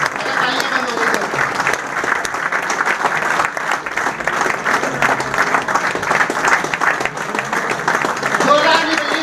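Enthusiastic audience clapping in a crowded hall, sustained and loud with some irregular bursts, continuing steadily while a voice speaks over it.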